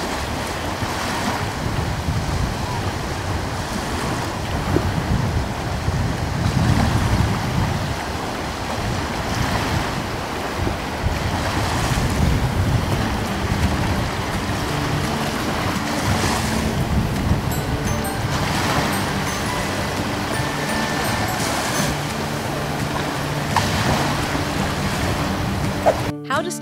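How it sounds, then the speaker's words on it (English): A hurricane brings steady roaring wind and crashing waves with heavy rain noise, loud and continuous throughout, with wind buffeting the microphone and no clear pauses. "Heavy rain, strong winds, and big waves."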